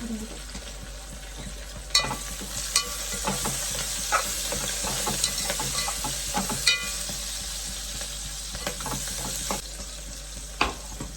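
MTR asafoetida dropped into hot oil gives a steady frying sizzle with a bright hiss throughout, punctuated by occasional sharper crackles and stirring clinks close by.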